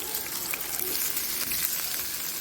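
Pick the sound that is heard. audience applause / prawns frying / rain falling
prawns frying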